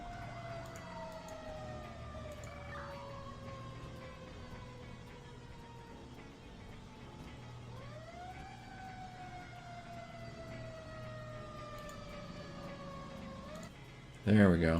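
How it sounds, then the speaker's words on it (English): A fire engine siren wails in the Emergency 4 video game, its tone rising and falling in long sweeps over a low engine hum. The siren plays steadily at a moderate level, ending in a brief loud clatter. "You don't have to blow the siren."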